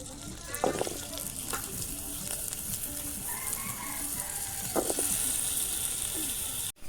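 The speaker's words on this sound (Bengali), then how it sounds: "আমি ততক্ষণ আমি আলুটা ভেজে নেই" Potatoes frying in hot oil in a pan, a continuous sizzle with a few louder bursts and stirring, while a rooster crows in the background.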